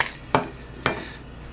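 Two sharp metallic clicks as the plastic and metal top of a Laing DDC pump is lifted off during repair, close and crisp, spaced about half a second apart with quiet between.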